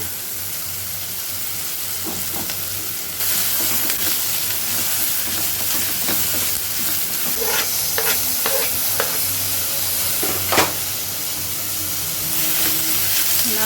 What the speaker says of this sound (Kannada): ಇವಾಗ ಇದಕ್ಕೆ ಆನಿಯನ್ ಆ್ಯಡ್ ಮಾಡ್ತಾ ಇದ್ದೀನಿ. ಆನಿಯನ್ ಆ್ಯಡ್ ಮಾಡಿದ ನಂತರ ಕರಿ ಲೀವ್ಸ್ ಆ್ಯಡ್ ಮಾಡ್ತಾ ಇದ್ದೀನಿ.